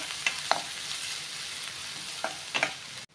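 Chopped onions frying in a pan for a Tamil bat-meat fry, a faint steady sizzle with a few brief scraping stirs at close range, no talking.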